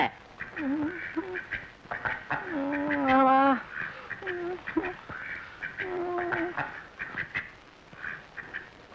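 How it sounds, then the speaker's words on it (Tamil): Ducks quack repeatedly in nasal bursts, fairly close, with a steady outdoor background and faint talk. "வாத்து பிடிச்சிட்டு வந்திருக்கீங்க?"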